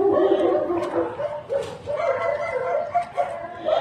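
A husky puppy yips and barks in short, uneven bursts with whimpering tones between them, close by and moderately loud, with no clear speech.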